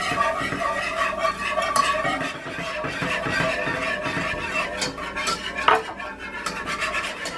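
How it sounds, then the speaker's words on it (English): A whisk scrapes and clatters against a pot as milk is stirred into a browning roux, a busy, close rhythm of metallic rubbing and occasional knocks without talk. "We are slowly going to whisk in our milk."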